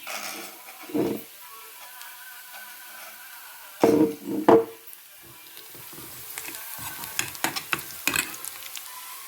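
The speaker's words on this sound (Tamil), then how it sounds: "பாருங்கோ வெங்காயம் வதங்கி வந்துட்டது" Onions sautéing in coconut oil for a spinach chickpea sundal, with a low sizzle broken by a few sharp stirring scrapes and clatters, busier toward the end.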